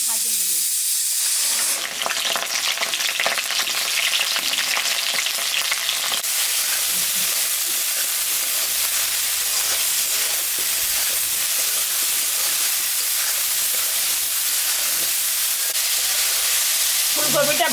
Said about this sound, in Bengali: ফুলকপিটা আমি ভাজে নেব।